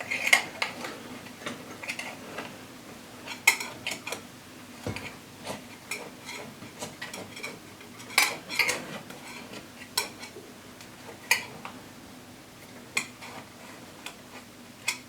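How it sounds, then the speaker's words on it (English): Butter knife scraping and tapping around the edges of a pan holding a gluten-free, dairy-free pumpkin cake, giving repeated sharp metallic clicks and clinks at an uneven pace, close and fairly quiet, with no talk. "going to take my knife, butter knife, and go around the edges to ensure that this thing's going to come out of the pan"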